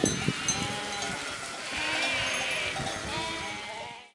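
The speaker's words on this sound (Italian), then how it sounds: "ho le pecore che sono lì, devo andarle a guardare" Sheep bleating on a Sardinian farm, several overlapping calls rising over a steady outdoor background, fairly close and continuous with no speech.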